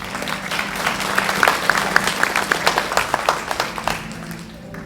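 Audience at an afternoon fashion show applauding the models, scattered claps building into a moderate round and then thinning out, over a low background hum.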